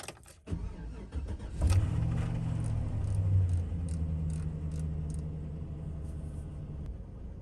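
Cold start of a 2005 Chevy Silverado truck engine on a roughly 40-degree morning: a brief crank catches, then the engine settles into a steady, low rumbling idle, close and loud, with no talking.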